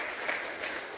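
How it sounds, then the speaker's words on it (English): A short burst of steady applause from a crowd at an awards ceremony, dense and even throughout. "Let's give him a round of applause."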